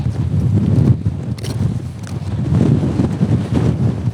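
Strong wind buffeting the microphone on a winter mountain traverse of Yatsugatake, a loud, gusty low rumble that swells and eases without a break.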